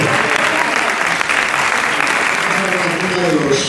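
A gathered group at a cultural festival claps in a brief, steady burst of applause, with voices mixed in among the clapping.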